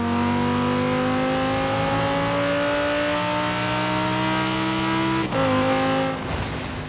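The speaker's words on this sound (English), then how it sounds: "The Audi R8 does not sound like this," An Audi R8 engine in Forza Horizon 4 holds a loud, sustained high-rev drone, then drops sharply as it shifts gear and climbs again, close and alone.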